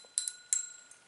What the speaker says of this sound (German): ganz alleine rausgehen und deine Glocke läuten?